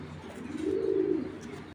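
A male Afsan grizzle pigeon gives a single low, drawn-out coo, close and clear over faint background noise.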